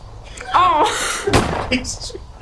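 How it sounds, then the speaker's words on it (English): A single sharp gunshot sound effect cracks loudly in the middle, surrounded by people talking. "Getting a lot of use out of the gunshot sound effect tonight."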